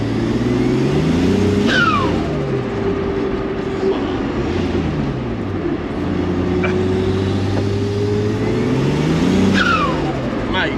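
A 2JZ-engined Ford Escort Estate pulls hard through the gears, the engine note rising and dropping with each shift, loud and close from inside the car on a bendy road.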